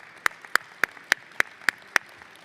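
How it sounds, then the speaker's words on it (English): Hand claps at a nursing pinning ceremony, seven evenly spaced sharp claps about a third of a second apart, crisp and close, apparently from a single person rather than a crowd, no talking. "give them a round of applause for being that supportive for you"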